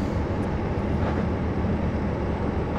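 A Superclass 47 train in Train Simulator 2017 accelerates at full throttle with a dense, steady, loud rumbling drone and broad roar. It runs without pauses or talk.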